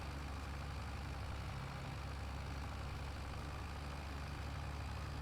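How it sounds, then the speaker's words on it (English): A tractor engine in Farming Simulator 25 labours in a low gear, a steady, dense low drone with constant rumble that holds at an even level without pause. "Is the tractor struggling a little"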